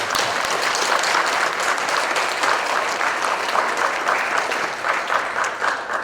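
Congregation at a closing worship service of a Korean Methodist ministers' retreat giving a round of thankful applause, dense continuous clapping from many hands, loud and sustained throughout.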